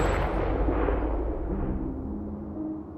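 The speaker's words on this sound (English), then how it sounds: "And then the gunshot." A gunshot in a video game trailer, a heavy booming blast at the start that decays into a long rumbling tail, with no talk.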